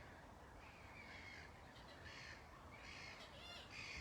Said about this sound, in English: they make that harsh noise, a lot of the water birds